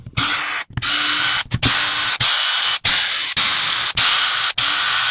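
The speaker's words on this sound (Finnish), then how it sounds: "pistetään oikea hylsy päähän ja tempastaan nää irti ja lähdetään purkaa moottoria" A cordless drill with a socket spins bolts out of a Bosch Gen 4 e-bike motor, loud close whirring bursts cut by short pauses, about eight in a row.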